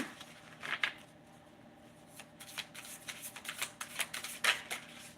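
Tarot cards shuffled and drawn from a deck at close range, a soft papery riffle followed by a burst of crisp slapping flicks, with no talking.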